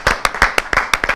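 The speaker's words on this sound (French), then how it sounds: "On va les applaudir, s'il vous plaît." A studio audience on a Sunday comedy TV set claps in quick rhythmic bursts, about six sharp, loud claps in just over a second with no talking.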